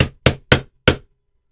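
Four sharp, separate hammer taps drive a pin into a SIG Sauer P322 pistol, close and loud, with brief silences between strikes.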